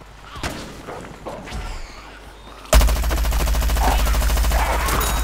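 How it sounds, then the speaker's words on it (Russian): Sustained machine gun fire from Plants vs. Zombies: Garden Warfare, a loud continuous rapid stream of shots that bursts in abruptly halfway through after quieter scattered game sounds. "Вот это нереально смертоносный пулемет."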